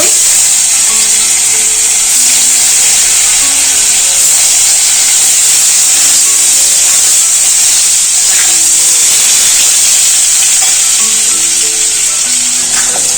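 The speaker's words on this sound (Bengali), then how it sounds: "পনিরগুলো ভাজা হয়ে গেল" Loud, steady sizzling hiss of paneer frying in hot oil, close up and continuous, with faint tonal whines drifting underneath and no talking.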